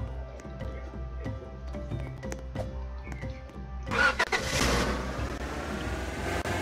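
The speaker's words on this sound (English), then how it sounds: "the truck noise is super loud, it sounds like almost like eerie" Truck engine in the video game Lumber Tycoon 2, a mechanical rumbling idle with rhythmic clicks that swells into a louder, rougher revving roar partway through, moderately loud and without talk.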